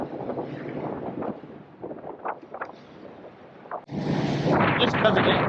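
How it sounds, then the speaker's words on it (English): Wind gusts across the open deck of a ferry on Alaska's Inside Passage, buffeting the microphone in rough, uneven rushes that grow loudest near the end, with someone talking over them. "I took my hat off because the wind's blowing my hat."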